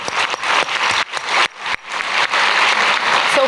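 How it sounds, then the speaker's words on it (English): An audience applauds the W20 women at the 2019 W20 summit opening, dense near clapping with brief dips before swelling again and carrying on steadily. "let's give an applause to all these W20 women"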